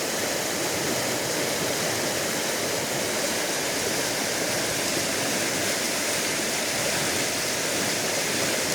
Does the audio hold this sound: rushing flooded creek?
yes